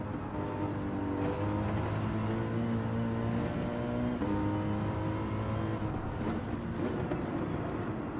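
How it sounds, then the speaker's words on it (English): Race car engines roar in the Gran Turismo 7 video game during a daily online race. The engine note is steady and droning with layered harmonic tones, and the pitch shifts slightly as the cars accelerate through the race. "another car is coming up fast behind."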